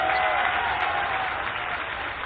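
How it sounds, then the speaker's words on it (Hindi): A crowd at an outdoor political rally applauds to welcome a visiting leader, producing a dense, steady roar of clapping that holds throughout before easing slightly at the end. "दोनों हाथों को उठा के ताली बजा के सिंधिया जी का मेरे क्षेत्र में स्वागत है"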